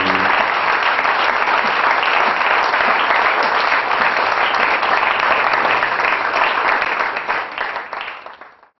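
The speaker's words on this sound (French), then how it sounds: "Acclamons le Seigneur. Je dis acclamons le Seigneur." A church congregation applauds during a worship service, a dense, loud, steady wash of clapping that holds for several seconds, then thins and fades away at the end.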